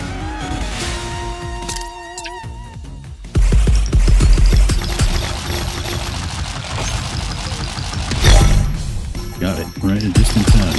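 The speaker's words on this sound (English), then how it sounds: "Let's try the heavy cannon." Loud, dense bursts of heavy cannon fire and explosions in the video game Yars: Recharged over electronic music, with a rapid booming barrage starting a few seconds in.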